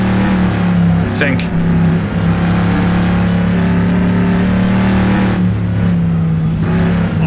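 A Chevrolet Stingray Corvette racing in Assetto Corsa holds a loud, steady engine drone after an upshift into fourth, rising and falling slightly with throttle while someone talks briefly over it.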